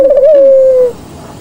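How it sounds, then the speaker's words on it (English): An owl gives one sustained, clear hoot up close, loud and steady for almost a second before cutting off into quiet background. "Whenever that owl hoots"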